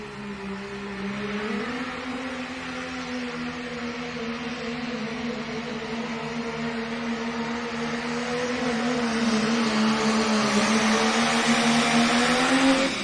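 Loud diesel truck engine roaring steadily through a truck and tractor pull run in Madera, California, a deep sustained drone that swells louder toward the end.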